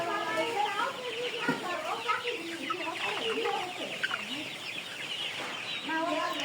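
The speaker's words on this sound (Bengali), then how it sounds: "এই দেখেন এইখানে কয়েকটা সাদা মুরগি বসে আছে।" White Tiger-breed chickens, about 1.3 kg each, cluck steadily at a farm in Jhenaidah, with overlapping soft calls throughout and voices talking nearby.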